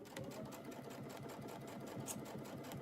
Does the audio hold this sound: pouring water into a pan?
no